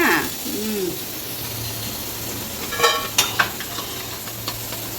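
Onions frying in hot oil in a Kerala kitchen give a steady, close sizzle, with a few sharper crackles and pops partway through and no talking.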